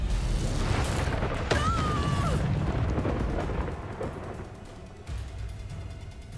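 A Confringo fire spell bursts into an explosion in Hogwarts Legacy, a loud rumbling blast that swells and slowly fades over combat noise, with a second thump near the end.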